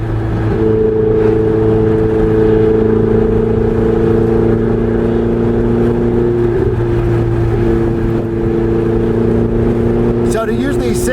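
A Ferrari 488 Spider underway, its engine giving a steady, loud sustained drone with smooth tonal hum and slight shifts in pitch, continuous throughout, with a voice speaking briefly near the end.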